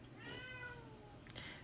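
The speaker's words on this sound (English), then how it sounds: "That's my cat throwing a fit because I also closed the door" A pet cat meows insistently behind a closed door, a couple of drawn-out wailing cries sliding downward, followed by a short sharper yowl, fairly close and clear over a low room hum.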